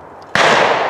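Shotgun fired at a sporting clay on a clay shooting course: one sharp, loud close blast that breaks from quiet and rings out with a long decaying tail.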